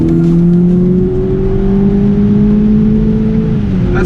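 A 2020 BMW Z4 G29 engine revs steadily and loudly toward 6,500 RPM, its strong droning tone holding and climbing slightly over about four seconds before easing off, heard up close from inside the car with no talking.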